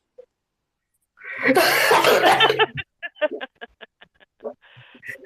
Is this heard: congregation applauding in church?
no